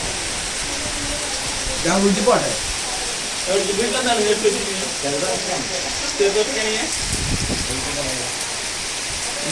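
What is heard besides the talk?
heavy rain with wind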